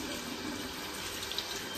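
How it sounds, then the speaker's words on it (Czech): Kitchen tap water runs in a steady stream as raw beef sirloin is rinsed under it, a continuous close splashing hiss with no voices. "musím to umejt vodou, ať to vypadá dobře"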